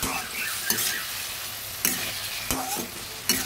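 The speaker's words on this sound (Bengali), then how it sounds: "এবার ভালোভাবে ভেজে নিচ্ছি।" Vegetables with salt frying in a pan for a Bengali matar dal shukto, with a steady close sizzle and a few sharp spoon scrapes and clinks as they are stirred, no voices.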